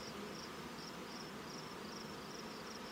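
Honey bees in the bottom chamber of a hive being cleared with an escape board, a faint, steady buzzing hum with a soft repeating high whine over a constant background.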